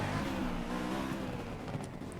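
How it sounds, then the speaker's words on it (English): Cars in a racing video game, including a BMW E92 M3 and a Nissan R35 GT-R Nismo, roar past with steady engine drone and whooshing passes, loud and continuous with no talking. "Whoa, look at those cars go by"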